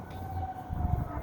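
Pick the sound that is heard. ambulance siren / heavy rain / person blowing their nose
ambulance siren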